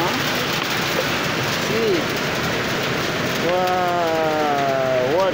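Rain falls heavily and steadily outdoors in an African pastoral village as a storm approaches, a loud constant rush, while someone speaks briefly over it.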